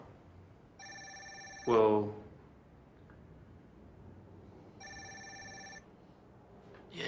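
A mobile phone rings in two bursts of steady electronic tones, clear and close, separated by a pause; a brief voice cuts in between the rings.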